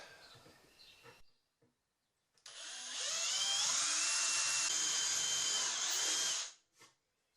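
A power drill with an 11/64 bit runs steadily through wood for about four seconds, high-pitched and whining, then spins down; brief handling knocks come before it.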